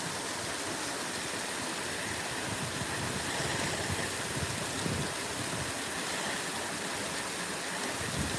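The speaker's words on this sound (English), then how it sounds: "And look at this thing shooting water out right here." A fountain near the Library of Congress in Washington, D.C., sprays water in a steady, even hiss and splash, moderately close and continuous without pauses or talk.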